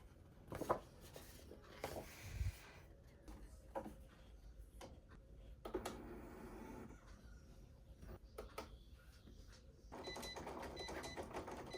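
A Cricut Explore 3 cutting machine runs its setup test cut, giving quiet, irregular clicking, whirring and carriage movements that rise into a steadier mechanical buzz near the end, with no voices.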